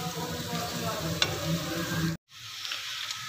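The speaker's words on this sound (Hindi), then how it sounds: "इस तरह से हल्के चम्मच के साथ इसको भुना जाता है।" Chopped onions frying in oil while a spoon stirs them gently, a steady close sizzle with soft scraping that cuts out abruptly near the end, then resumes more quietly.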